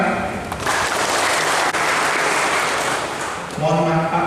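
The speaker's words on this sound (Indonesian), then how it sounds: "Luar biasa tepuk tangan." A crowd claps steadily for several seconds, loud and close, at a school assembly at SMA Negeri 1 Kota Agung, Indonesia, before a voice starts speaking as the applause fades.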